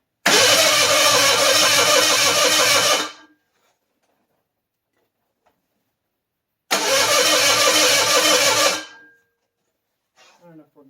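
A 1985 Ford Bronco II engine cranks over after a head gasket replacement, two loud bursts of roughly two to three seconds each separated by silence, close up.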